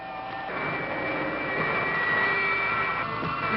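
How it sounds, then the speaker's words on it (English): Sci-fi jet engine thrust effect: a loud, steady roaring rumble with a sustained whining tone layered on top, swelling slightly and holding without any talk. "More. More thrust. I'm turning it higher."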